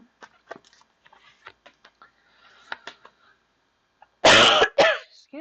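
A woman coughs twice, loud and harsh, close to the microphone, after a stretch of faint clicks and small rustles in a quiet room.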